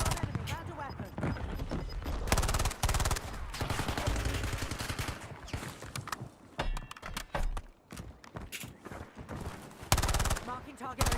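Warzone battle gunfire: dense rapid bursts and single cracks, close and loud, repeating throughout with short pauses, while game voice callouts speak over the shooting.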